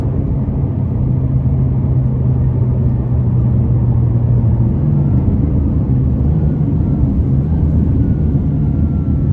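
A 664 hp 2017 McLaren 570S accelerating hard, heard from inside the cabin as a loud, dense low engine roar and rumble that rises in pitch and holds steady throughout.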